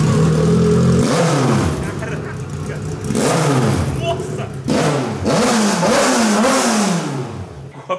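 Kawasaki Z1000 motorcycle with a straight-pipe exhaust, very loud and close, revved hard in several sharp bursts that rise and fall back, with short idle gaps between them.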